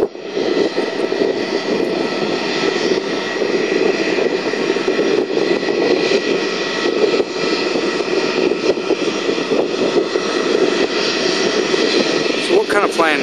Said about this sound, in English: We should be able to get the initial takeoff.